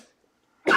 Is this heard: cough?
yes